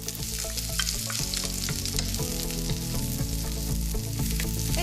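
Onion fries in olive oil in a hot pan, a loud, close, continuous sizzle with crackling pops and occasional stirring scrapes throughout.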